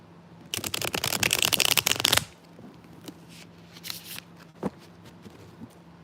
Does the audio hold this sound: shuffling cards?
yes